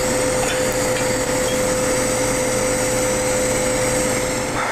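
Stainless steel is TIG welded in a vertical bead at 100 amps on a WARCKING Mig200DV 3-in-1 machine, a steady loud hiss and buzz with a thin constant whine, unbroken throughout, with no talk.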